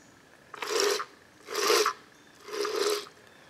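Peg Perego ride-on toy gearbox turning after being oiled, giving three raspy grinding bursts of about half a second each, evenly spaced and fairly close, with quiet gaps between.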